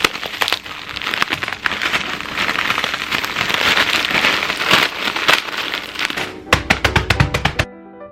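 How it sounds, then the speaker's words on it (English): Graham crackers finely crushed for a no-bake pie crust give loud, close, dense crackling and crunching, then a short gap and a string of sharp separate taps near the end. "Finely crush the graham crackers."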